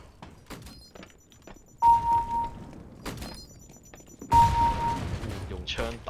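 Gunfire in CS:GO, sharp rifle shots cracking in short bursts with a few isolated shots between, the loudest volleys near the middle and end, under game ambience and occasional talk.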